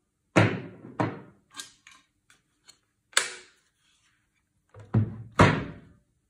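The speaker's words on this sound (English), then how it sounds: "press the bolt release button and slide the bolt out towards the rear of the rifle." A SIG Cross rifle bolt being slid rearward out of the action, heard as a handful of sharp metallic clicks and thunks spaced irregularly, close and distinct against silence, with no talking.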